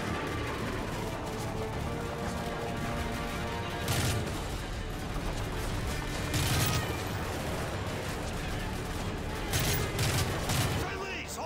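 Gunfire in Modern Warfare 3 during the Black Tuesday urban combat: sustained bursts of automatic rifle fire with loud nearby volleys and distant shooting, with voices talking over the battle.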